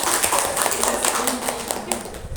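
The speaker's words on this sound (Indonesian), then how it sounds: "Sekali lagi tepuk tangan." An audience at a talk claps in a loose, uneven patter of separate hand claps, fairly close and moderately loud, tapering slightly toward the end.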